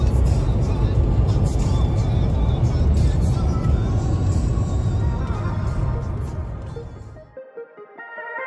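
Car driving to Schiphol airport with luggage loaded, a steady low engine and road drone heard from inside the cabin, fading out abruptly near the end as a voice begins speaking.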